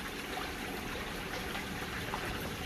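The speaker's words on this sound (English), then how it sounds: "Left the waterfall going, everything's going." A pond waterfall pours a steady, continuous rush of running water, an even hiss with no pauses and no voices.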